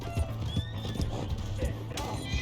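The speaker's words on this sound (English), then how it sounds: "I'm trying to soothe the horse" A horse in the video game Red Dead Redemption clip-clops with a rhythmic run of hoofbeats and gives a short whinny, close and clear over game ambience.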